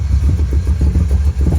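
An old American car's engine runs just after starting, a steady low, rough rumble with a faint rhythmic clatter, close and loud, with no voices.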